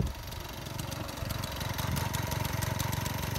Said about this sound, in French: je vais voir si je peux la démarrer